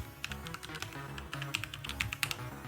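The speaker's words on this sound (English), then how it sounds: "open up a terminal, type in .NET New Podcast" Someone types a command into a terminal on a computer keyboard, producing a quick, uneven clatter of close keystrokes over a low tonal background.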